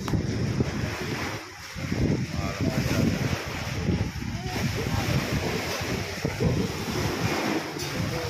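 Ocean waves wash and roar continuously at a fishing spot, mixed with gusty wind buffeting the microphone, and a voice speaks intermittently.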